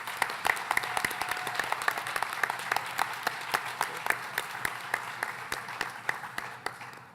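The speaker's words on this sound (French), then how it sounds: "On peut tout l'applaudir" An audience at a Provigo grocery store inauguration in Ville-Marie claps steadily for several seconds, a dense, sustained round of applause filling the room.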